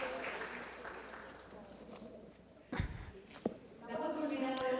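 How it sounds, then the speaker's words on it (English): An audience at a business forum awards ceremony applauds the winners, a soft, steady patter of clapping that fades under a voice, then rises again near the end. "An applause for all winners."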